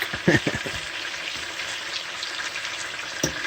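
Bourbon BBQ chicken wings frying in a pan, a steady close sizzle with a few louder pops and crackles at the start.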